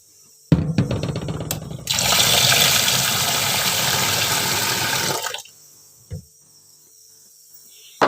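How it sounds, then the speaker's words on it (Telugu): Water pours into a vessel in a home kitchen as a steady, rushing stream lasting a few seconds, with a few clinks before it and a quiet pause after. "ఇంక ఈ నీళ్ళే పట్టుకుంటున్నా."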